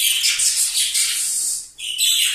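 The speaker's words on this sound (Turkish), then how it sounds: "Kuşlar böyle artık 10 dakika susunca illa bağıracağız diyorlar" Budgerigars in breeding cages give a dense, loud stream of high chirps and chatter, briefly dipping before the calling resumes.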